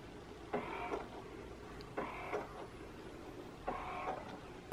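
Fisher-Price Rose Chandelier Cradle 'n Swing baby swing motor starting up, a faint mechanical whir that swells in three regular pulses about a second and a half apart over a quiet background hiss.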